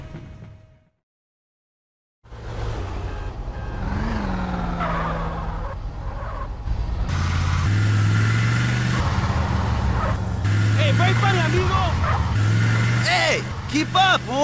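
Cars in GTA San Andreas drive toward a street race, engines humming and revving with shifting pitch, joined by tire squeals and horn-like tones, after a silent gap at the start; speech-like game sounds overlap.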